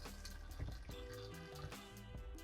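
Water runs from the faucet of a custom Toyota Land Cruiser overlanding rig, a close, splashing trickle with bubbly drips and gurgles into a sink.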